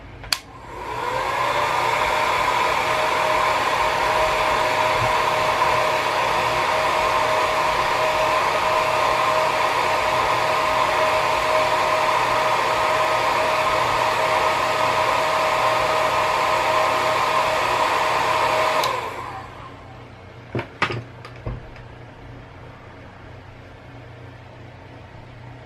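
A hair dryer blows steadily for about eighteen seconds while drying a piece of sand artwork, loud and close with a constant whirring rush, then cuts off and leaves a few small knocks and handling sounds.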